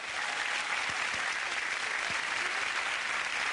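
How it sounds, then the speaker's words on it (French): A theatre audience applauds steadily for the costume and set designers on a French TV variety stage production, a dense, even wash of clapping that fills the whole stretch without letting up. "on les applaudit tous."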